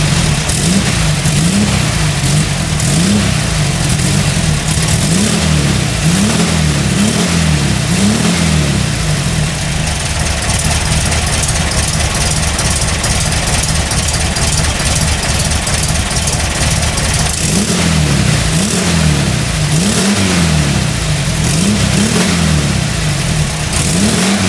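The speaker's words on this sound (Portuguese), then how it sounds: "Agora eu vou ligar o motor da Kombi com escapamento de Puma para vocês ouvirem" A 1989 VW Kombi engine fitted with a Puma exhaust runs loud and close, with a low burbling idle broken by repeated throttle revs that rise and fall throughout.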